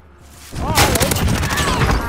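Gunfire in the Call of Duty video game, a sudden loud burst of shots that rises after a quiet start, followed by continued rattling fire and in-game voice chatter.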